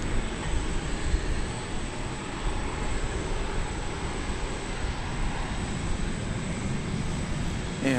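A Spirit Airlines jet at DFW Airport holds a steady, broad engine roar on the runway, continuous and fairly loud with no break.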